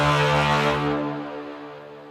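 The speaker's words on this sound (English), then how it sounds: "So baby C bass trombones." Layered bass trombones in an orchestral music composition, a sustained low brass chord swelling loudly then slowly fading over about two seconds, with no talking.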